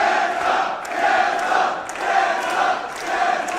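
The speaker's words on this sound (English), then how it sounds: "listen to this crowd" A wrestling event crowd shouts and roars continuously in a packed venue, loud and swelling in waves with scattered louder yells on top.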